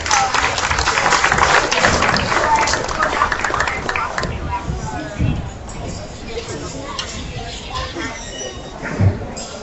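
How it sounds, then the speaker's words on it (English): Spectators at a market show judging event clap for the exhibitors: dense, loud applause mixed with crowd chatter for several seconds, then thinning as talk and arena noise take over. "Let's go ahead and give all those exhibitors a nice big round of applause."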